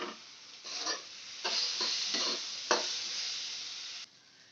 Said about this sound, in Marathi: आता हे आपल्याला मिक्स करून घ्यायचं.